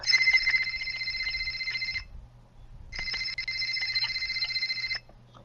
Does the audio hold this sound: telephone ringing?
yes